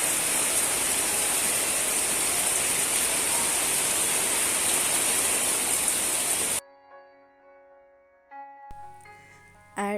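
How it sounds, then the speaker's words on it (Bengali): Heavy rain pours down outside a home on a cloudy day, a loud, dense, steady roar for about six and a half seconds before it cuts off abruptly to a much quieter background with faint tones. "আর এই পাশে দেখুন আবার কি পরিমাণে বৃষ্টি হচ্ছিল।"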